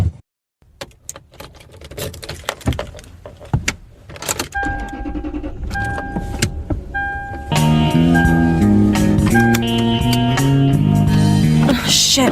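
A car door thuds and keys jingle, then an engine starts and settles into a steady hum, with tonal chimes layered over it as an audio drama sound effect; no talking.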